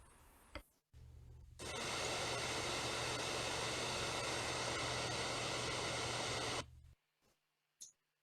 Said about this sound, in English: The sounds you hear are the real sounds from one of our apartments.